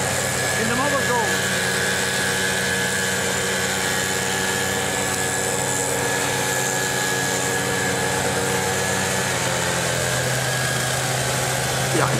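Engine of a New Holland tractor running steadily at idle during leaf clearing on a seaside boulevard in Bergen op Zoom, a constant low drone with faint background sounds throughout.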